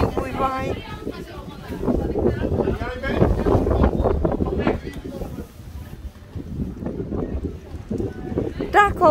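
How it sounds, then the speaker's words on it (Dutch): Gusty wind rumbles and buffets the microphone at an outdoor market, with voices talking through it. "Oeh, wat een wind, mooi waai."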